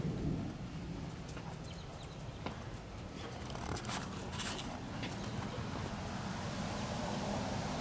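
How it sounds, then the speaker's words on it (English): Thunder rumbles low and sustained during a stormy day, with rain hissing faintly around it and a few sharp crackles; quiet overall and with no speech. "And it's been very stormy out here."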